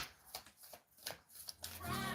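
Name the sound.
shuffling playing cards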